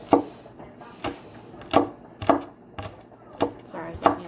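A knife chops celery stalks on a wooden cutting board, about eight crisp, evenly spaced knocks in a steady rhythm, close and clear with no voices.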